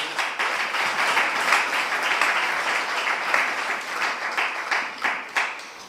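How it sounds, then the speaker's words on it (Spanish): A church congregation claps as an offering of praise, dense applause sustained throughout with rhythmic pulses, loud and close, no speech over it. "Una ofrenda de palmas, Señor"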